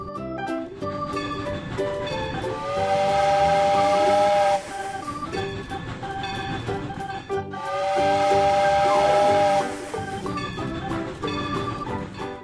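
A steam train whistle sounds in two long, loud blasts with hissing steam around them, each ringing out for several seconds before cutting off, no voices.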